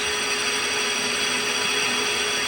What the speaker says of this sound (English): I'm basically drilling the holes